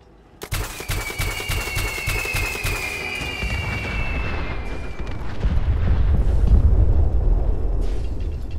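Baby-shaped bombs fired and exploding in Fallout 4, a sharp burst of rapid gunfire-like cracks followed by rolling booms and a deep rumbling blast that swells toward the end.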